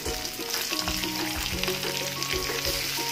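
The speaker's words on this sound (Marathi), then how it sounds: "जस्ट थोडंसं शॅलो फ्राय आपल्याला करायचं आहे कांदा" Sliced onions shallow frying in oil in a pan for a Punjabi-style rajma masala, a continuous crackling sizzle with occasional stirring scrapes, close and steady, with no talking.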